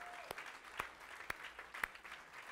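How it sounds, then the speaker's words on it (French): A church congregation applauds during a sermon, giving four sparse, evenly spaced claps that sound faint and somewhat distant. "Bon, mais je vais vous entendre applaudir si c'est ça."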